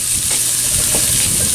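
A whole onion sizzles loudly in a cast iron pan while being stirred, giving a close, steady frying hiss with soft scraping of the spoon.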